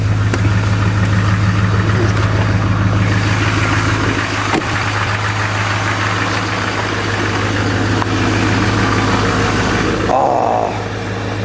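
A Duramax diesel truck idles high after a cold start at 27 degrees F, a steady, loud, close diesel rumble with a constant low throb. Near the end there is a brief shift in the sound.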